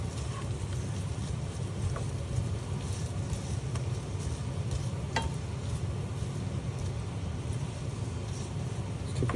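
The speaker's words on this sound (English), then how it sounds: "So the whole spice is frying." Whole spices, cloves among them, frying in a pan give off a steady, dense sizzle with a few faint clicks and pops, constant and close throughout.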